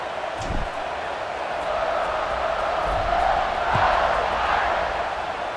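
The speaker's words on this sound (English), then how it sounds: "this crowd is feeling themselves after that last drive" A large football stadium crowd at a South Carolina versus Notre Dame game roars steadily before a kickoff, a broad continuous cheer that swells slightly midway, with a few faint thumps underneath.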